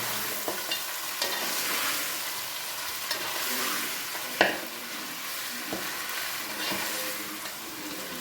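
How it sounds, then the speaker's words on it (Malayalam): Mutton sizzles steadily as it is stir-fried in a pan for pulao, with occasional scrapes and knocks of a stirring spoon close up and no talking. "ഊറ്റി വെച്ചിരുന്ന മട്ടൻ ഇതിലേക്കിട്ട് ഒന്ന് വരട്ടി"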